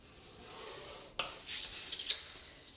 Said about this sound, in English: you're going to score at the 3/4 inch mark on all 4 sides